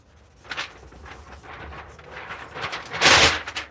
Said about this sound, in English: Paper's so loud